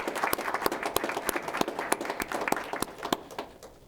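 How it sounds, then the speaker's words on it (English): An audience at a school board meeting claps in a round of applause, a brisk run of sharp, fairly even hand claps from a modest group, close and fading slightly toward the end. "So can we give her a round of applause in recognition?"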